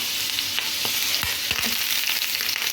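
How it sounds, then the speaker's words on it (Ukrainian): Eggs fry in a pan with a continuous loud sizzle, broken by a few sharp scraping knocks near the middle as the pan or spatula is moved. "посмажу зразу яйця йому"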